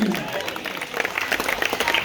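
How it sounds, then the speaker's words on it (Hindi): Loud applause from a crowd at a Jahangir Puri community gathering marking Ambedkar Jayanti, a dense, steady burst of clapping with cheering voices mixed in throughout. "बाबा साहब भीमराव अम्बेडकर जी हैं, उनके लिए जोरदार ताली।"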